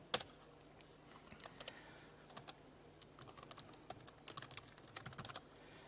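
Code being typed on a computer keyboard during a conference tech demo, with quiet, irregular key clicks tapping close by, picking up into quicker clusters toward the end.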